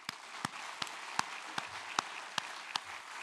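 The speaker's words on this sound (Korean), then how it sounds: "2025년을 시작하실 하나님께 영광의 박수를 드리겠습니다" A church congregation claps at a year-end watch-night worship service in Daegu, with steady, evenly paced claps standing out above a dense wash of applause.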